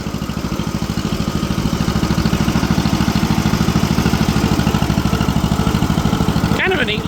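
An old, long-parked tractor engine idles with a fast, steady low thumping clatter, loud and close, running evenly before a brief change near the end.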